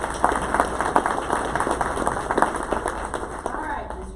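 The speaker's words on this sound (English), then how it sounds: "Let's give them a round of applause." Applause from a crowd at a community education forum, a mix of scattered and overlapping hand claps at moderate volume, with talk running beneath and over the clapping.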